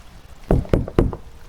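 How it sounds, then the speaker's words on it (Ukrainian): Knocking on a wooden door in a horror video game about window cleaning in a cursed house: three firm, evenly spaced knocks, loud and close, with no talking. "Стукаємо двері і дивимося, що тут буде."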